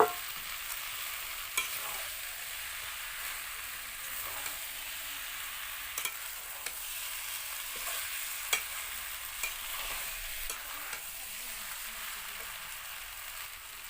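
Young jackfruit and potato pieces stirred into a red, oil-releasing spice paste in a village-style kitchen, giving a steady, even sizzle broken by light scraping clicks of the spoon, with no talking.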